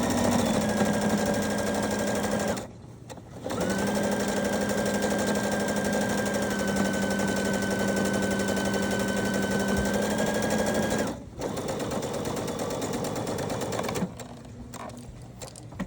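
A sewing machine stitches a seam in women's pajama pants, running steadily with a loud continuous motor hum and needle chatter over two long runs, pausing briefly between stitching passes, with no talking.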